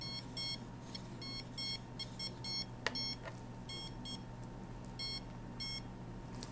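A handheld detector emits short, high electronic beeps in irregular bursts, clear and close over a steady low hum, with one sharp click midway.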